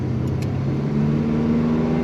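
A 1972 Chevrolet K10 4x4 regular cab truck idling steadily, a low, even exhaust rumble held close and continuous throughout.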